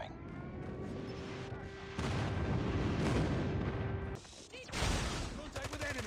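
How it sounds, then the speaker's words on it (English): Airstrike explosions and heavy gunfire in a Call of Duty match, a sustained roaring barrage of booms with a steady tone over it, a brief lull, then another loud burst, with game voice callouts mixed in. "Friendly airstrike incoming."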